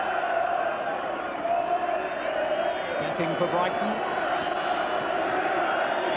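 A large football crowd at a 1983/84 Second Division match, Newcastle United against Brighton, chants a farewell to Kevin Keegan, a loud sustained roar and chant filling the ground while a commentator talks over it.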